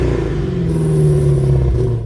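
A 2023 Dodge Challenger SRT Demon 170 with a supercharged 6.2-liter Hemi V8 rumbles loudly and steadily up close, a deep throaty drone that holds even for about two seconds before cutting off.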